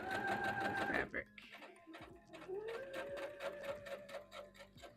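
Home sewing machine stitching fabric for a wrap dress, a dense rapid needle rattle running steadily and close, briefly pausing before resuming; a person talks over it throughout.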